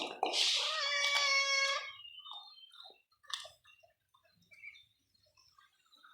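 Roxy the cat, fed outdoors in a home garden, gives a high, drawn-out meow at the start, followed by faint, scattered chewing and small mouth sounds close by.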